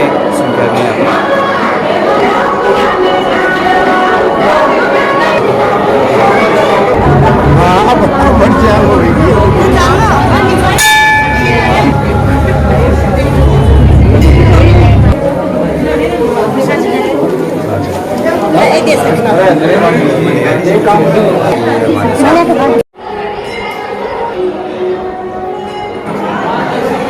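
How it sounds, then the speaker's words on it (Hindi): A dense crowd of devotees chatters at a Hindu temple in Sikar, Rajasthan, a loud continuous babble of many voices with occasional bell chimes and clinks, cut off briefly near the end before resuming. "ये देख रहे हैं अपार श्रद्धालुओं की भीड़"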